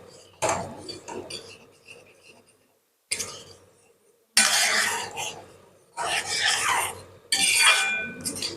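Pav bhaji vegetables roasting with masala in a pan: bursts of close, loud scraping and spatula clatter against the metal, separated by quiet gaps, with a voice speaking in between.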